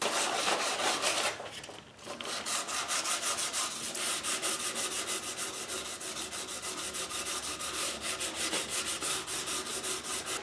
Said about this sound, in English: So I'm going to start by scuffing this up a little bit, and then we'll apply some stain to it